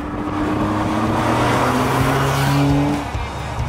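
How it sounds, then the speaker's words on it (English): Manual Ferrari 575M engine under way, a loud continuous engine roar with shifting pitch and road rush, heard close and alone without speech. "So, the manual Ferrari"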